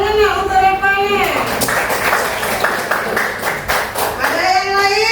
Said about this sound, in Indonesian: Tepuk tangannya untuk Repannya.